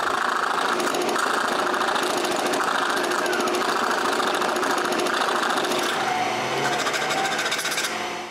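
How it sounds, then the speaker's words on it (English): A scroll saw cuts finger joints in plywood for a wooden laptop case, its rapid reciprocating blade chattering loudly and continuously close up, holding a steady buzzing rhythm throughout with a slight shift in pitch toward the end. "I use the scroll saw for the finger joints"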